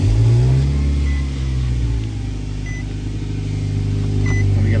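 A Nissan Sentra engine, just back together after a front brake pad job, starts with a loud rev at first, then drops into a steady rumbling idle, close by with no voices.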